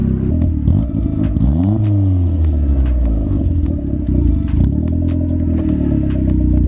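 A turbocharged Mazda Miata engine revs up and settles at close range, a loud rumbling idle with a rising and falling rev sweep.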